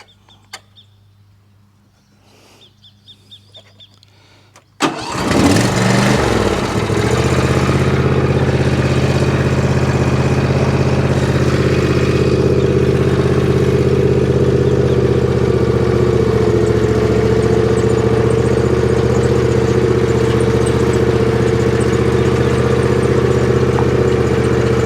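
A zero-turn mower engine cranks and catches after a few quiet clicks, then settles into a loud, steady idle rumble that continues unbroken up close.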